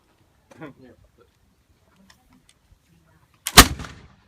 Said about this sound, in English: Now these French soldiers continue firing until they hear that final order to arrêter or cesser le feu.